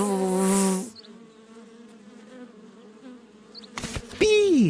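Bees drawn to a flower buzz in a loud, droning swarm, with fainter humming in between, under animated cartoon music and effects.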